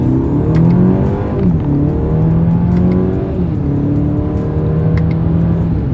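A 2024 Mercedes GLC accelerates on the road with paddle-shifted gears. Loud, steady engine drone rises in pitch and then drops at the gear changes, heard from inside the cabin.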